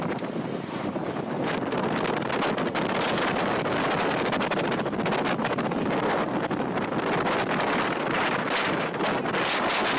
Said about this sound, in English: This is a disaster. A tornado.